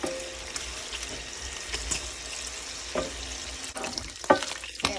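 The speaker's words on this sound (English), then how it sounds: "Cooking bacon." Bacon frying in a pan, a soft continuous sizzle and crackle broken by a few sharp scraping stirs and clinks of a utensil toward the end.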